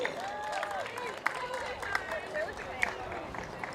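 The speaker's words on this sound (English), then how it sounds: "Gamecocks, let's give a big round of applause for Martha McCoy" Crowd at a college track and field Senior Day greeting Martha McCoy with scattered clapping beneath a lively babble of cheering and chattering voices, a few sharper claps standing out.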